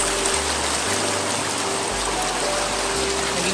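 Floodwater rushing like a stream through a flooded neighbourhood makes a continuous broadband roar of flowing water that stays loud and steady, with a low rumble underneath.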